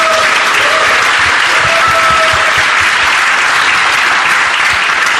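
An audience at a Toastmasters tall tales championship applauds loudly and continuously as a trial run, a dense, sustained wall of clapping from a large crowd filling the room.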